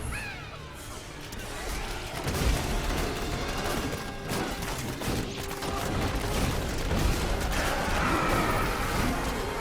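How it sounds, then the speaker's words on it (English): Bouncing grenades from a Demon Hunter build in Diablo 3 burst in a dense, continuous barrage of crackling explosions layered over game effects. "You see all these grenades that are bouncing. You get so many grenades."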